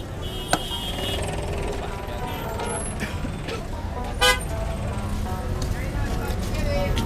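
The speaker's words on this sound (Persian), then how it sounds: "ازدحام ترافیکی هم خیلی زیاد است" Dense night street traffic in Kabul's Karte Naw district, with a steady roar of vehicles, scattered car horn toots and one louder honk, while people talk over the din.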